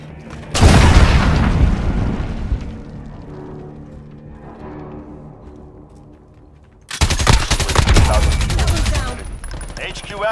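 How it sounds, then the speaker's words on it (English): Enemy cruise missile strike in a military first-person shooter game: a heavy explosive boom erupts near the start and rolls off into rumbling, then a second loud blast-and-debris burst hits around the seventh second and stays dense to the end. "Enemy cruise missile. Take cover."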